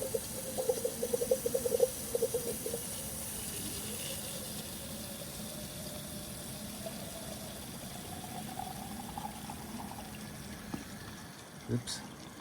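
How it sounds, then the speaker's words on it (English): Water is poured into a running pump cooling system, a faint trickling and splashing over a low steady pump hum with a tonal whine, a few louder sloshes near the start and a clunk near the end. "add some water."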